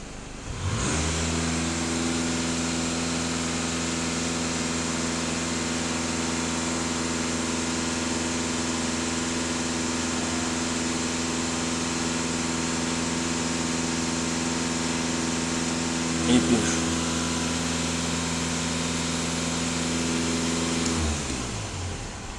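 A VW Passat B8 engine held at a steady raised rev for about twenty seconds, droning evenly up close before dropping back toward idle at the end, with no talk over it.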